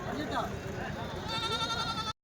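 Goats bleat in a crowded weekly sheep and goat market in Kadiri, with a few nearby bleats over a busy background of people talking.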